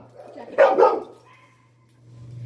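A single short dog bark, fairly close, over a low steady hum, followed by quiet.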